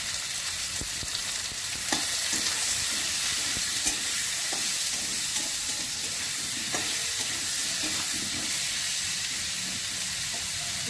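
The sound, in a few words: potatoes and onions frying and being stirred in a pan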